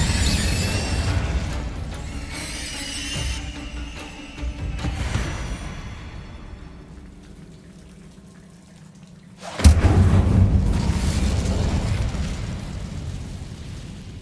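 A fire spell is cast in the video game Hogwarts Legacy. Layered game effects and music fade to a quiet stretch, then a loud, sudden fiery burst erupts and rumbles on at full strength to the end.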